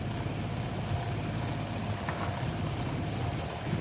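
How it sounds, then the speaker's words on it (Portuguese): Sailboat motoring under its engine at sea, a low steady drone with wind and water noise, constant and unbroken throughout. "Nesse momento, infelizmente, tá no motor."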